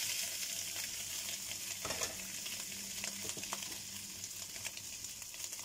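Leftover cold rice frying in a pan with egg, a steady close sizzle with light stirring scrapes, no talking.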